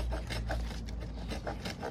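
A hand saw rasps through wood in quick, rhythmic back-and-forth strokes, close and fairly quiet.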